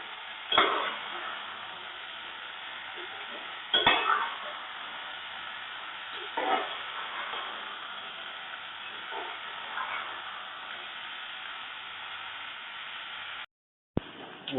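Potatoes sautéed with onions in a pan for aloo palak, a low hissing sizzle broken by occasional scraping stirs, with a brief dropout near the end.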